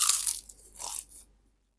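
A crisp crunch comes from biting into fried mackerel served at a Thai home meal, two close crunchy bursts followed by silence.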